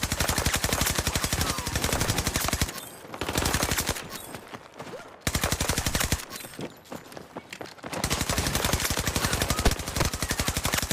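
Rapid automatic gunfire rattles during a firefight in the video game Battlefield 2042, long sustained bursts with brief pauses and scattered shots in between, loud and close.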